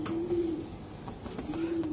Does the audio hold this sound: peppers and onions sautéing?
no